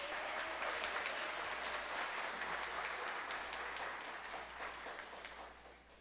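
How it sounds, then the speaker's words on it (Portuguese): Audience applause in a legislative school lecture hall honoring the elderly council team, steady dense clapping from a crowd that holds for several seconds and slowly tapers off near the end. "Por favor, uma salva de palmas"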